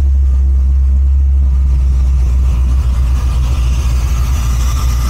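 Chevy car engine idling steadily just after starting, a loud constant low rumble with a smooth even hum, close and alone without talk.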